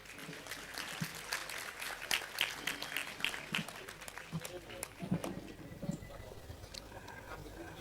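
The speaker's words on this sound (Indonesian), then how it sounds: "Tepuk tangan." Scattered clapping from a small audience at an Indonesian public gathering, moderately loud and a bit uneven, fading after a few seconds while voices murmur underneath.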